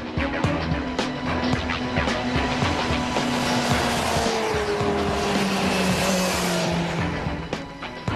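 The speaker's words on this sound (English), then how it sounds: "You crack a throttle on an MV that's singing a different song." An MV Agusta motorcycle engine is revved hard and close, a loud continuous roar with rising and falling harmonic sweeps and sharp throttle blips across the whole stretch, with no talking.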